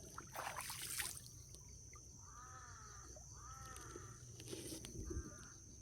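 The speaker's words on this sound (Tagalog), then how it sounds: "Sobrang dami mga uwak dito." Crows give a few harsh, drawn-out caws in separate bursts, somewhat distant, over a faint background hiss and trickle; many crows are present.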